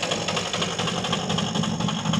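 A drag race car's engine idles steadily at a Biķernieki drag strip, a continuous close rumble with a faint mechanical ticking, heard alone with no talk.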